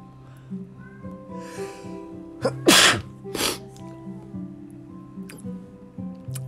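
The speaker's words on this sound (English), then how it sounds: "Oh, because I sneezed." A person sneezes loudly once at close range, a sharp burst followed by a second short snort-like sneeze, in a quiet indoor room with faint background hum and small rustles.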